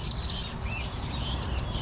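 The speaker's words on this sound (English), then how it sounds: "They're all the nests, all the starling nests. You can hear all the birds." Starlings call from a cluster of nests, with a brief burst of high, close chirps and tweets over steady background noise.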